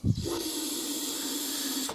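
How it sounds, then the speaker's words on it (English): Aerosol spray hisses steadily into the cylinder head of a lawn mower engine under repair, one continuous close burst of about two seconds after a brief initial knock. "So what we're going to do is, first off, put some spray down the head."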